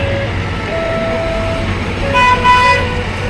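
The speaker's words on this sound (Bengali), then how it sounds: "যেতে যেতে দেখতে পারলাম হর্ন দিতে যেতে টয় ট্রেন বেরিয়ে যাচ্ছে পাশ দিয়ে।" A Darjeeling toy train passes with a continuous low rumble, then sounds its horn in a short, loud, tonal blast near the end.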